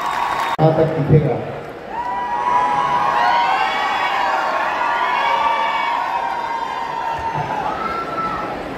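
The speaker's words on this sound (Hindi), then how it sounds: "बहुत जोरदार तालियां" Crowd at a herbal fair welcome event cheers and whoops, with shouting and some clapping building into a sustained noisy swell after an abrupt start, fairly close and loud.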